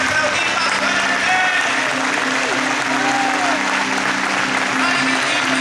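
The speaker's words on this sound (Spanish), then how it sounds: "¿Será que puedes aplaudir más fuerte?" Congregation applause at a church service rings out steadily throughout, dense and loud, with faint voices and a low sustained tone beneath.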